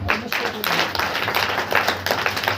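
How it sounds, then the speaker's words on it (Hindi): A congregation claps hands during a Saturday church power meeting, a dense, continuous patter of clapping that stays steady and fairly loud throughout. "ताली बजा कर"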